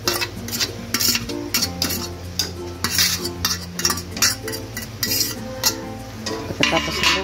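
A utensil clinks and scrapes repeatedly against a pan while onion and garlic are stirred, loud, close metallic taps in an uneven rhythm over a light frying sizzle.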